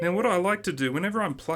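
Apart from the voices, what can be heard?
None of the usual background noises is heard.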